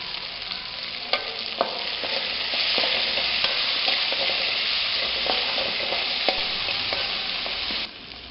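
Turmeric, ginger garlic paste and salt stirred in a hot pan for a fried egg poha upma, with a steady sizzle and clear spoon scrapes and knocks at irregular intervals; the sound is close and continuous, and no voices are heard.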